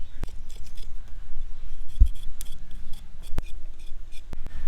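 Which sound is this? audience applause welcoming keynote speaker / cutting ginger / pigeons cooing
cutting ginger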